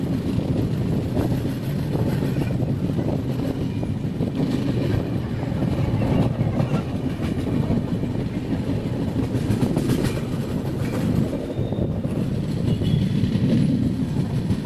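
A train runs steadily along the Vijayawada–Kazipet line near Dornakal Junction and Mahabubabad, where third-line works are under way, its wheels rumbling and clattering close by without a break and wind buffeting the microphone.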